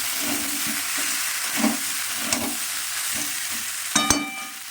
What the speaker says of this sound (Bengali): নেড়ে দিলাম